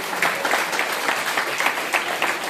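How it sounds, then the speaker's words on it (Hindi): Applause from a gathered audience in a room, a steady wash of clapping lasting a few seconds, moderately close, with no voices over it. "जोरदार तालियां वीरेंद्र"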